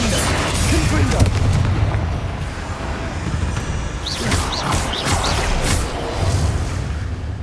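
A Confringo fire spell explodes during combat in the video game Hogwarts Legacy. Loud booms and whooshing blasts rumble continuously under dense battle noise, with a voice speaking over part of it.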